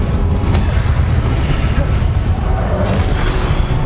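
The Incendio fire spell is cast in Hogwarts Legacy, a loud, continuous roaring rumble with deep booming low end and bursts of crackling fire noise layered over game combat sounds.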